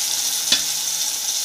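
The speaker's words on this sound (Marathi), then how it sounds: "बटाटा चांगला फ्राय झाला त्याच्यामध्ये." Potatoes frying in a pan produce a continuous bright sizzle, close and fairly loud, with one brief stir or scrape partway through.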